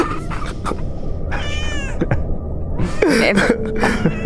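A voice imitating a cat, giving several drawn-out, wavering meows in short bursts on a radio comedy show, close and clear over light background noise.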